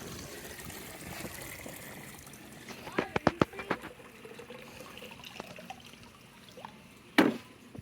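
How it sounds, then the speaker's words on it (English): Water drains and trickles out of an Aiper Seagull Pro cordless robotic pool cleaner lifted from the pool, with soft dribbling, a cluster of splashy drips and a final louder splash, close by. "We're supposed to let the water evacuate."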